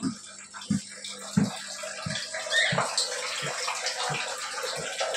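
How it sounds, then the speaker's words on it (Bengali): Water running from a household tap, a steady splashing stream with soft regular knocks under it, close and fairly quiet, with no talking. "এই দেখো কলে জল পড়ছে, এখন আবার জল তুলতে হবে।"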